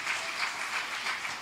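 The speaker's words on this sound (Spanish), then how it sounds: "Fuertes aplausos al Señor." A church congregation applauding loudly, a dense continuous wash of many hands clapping with gentle swells, no distinct voices.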